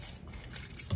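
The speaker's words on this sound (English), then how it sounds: "Keys." A bunch of keys jangles close by in cold outdoor air, a brief quiet metallic rattle with a few light clinks over about a second.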